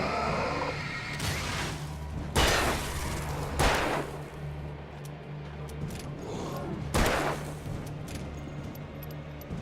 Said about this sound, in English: I can shoot as much as I want because we have infinite ammo